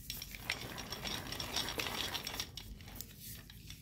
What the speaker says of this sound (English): now we're in high gear